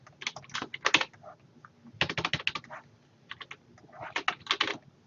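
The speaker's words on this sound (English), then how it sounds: "Sometimes I hit keys too fast and they do other things than what I want them to do." Computer keyboard keys clatter in quick bursts of rapid typing separated by short pauses, close and clear with no talking.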